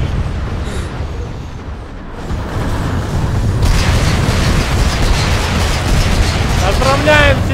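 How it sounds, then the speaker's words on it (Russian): A string of booming, popping firework explosions in the video game PlanetSide 2, with a whistling rise near the end, layered over a constant rumbling background. "Теперь фейерверк в честь победителя!"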